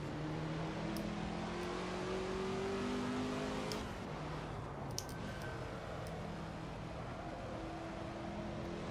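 A road car built by a Formula One team accelerates through a chicane on the Barcelona circuit, its engine note rising in steady harmonic sweeps, with a brief shift around the middle and a continuous loud drone of road and wind noise.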